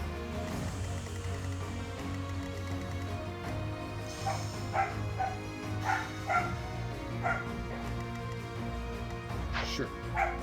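Dog barking inside the game Fire Emblem: Three Houses, several short yips and barks from about 4 to 10 seconds over steady game music and low voices.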